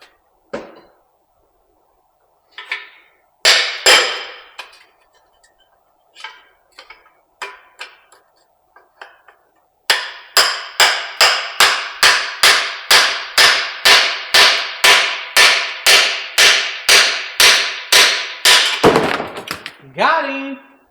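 Hammer blows drive an exploded piston out of an engine block during a teardown. A few scattered taps come first, then a fast, steady run of loud, sharp metallic strikes. A brief voice is heard near the end.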